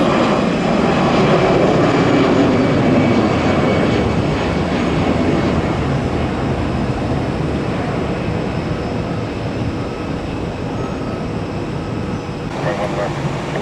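Airliners at Tampa airport, including Southwest jets, produce a loud continuous engine roar that fades slightly over time as people talk nearby.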